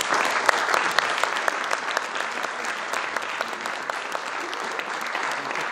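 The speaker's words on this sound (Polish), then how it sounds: "Jeszcze raz brawa dla nich i gratulacje." An audience at a brass band festival concert applauds steadily, dense close clapping with a few sharper individual claps standing out, sustained throughout.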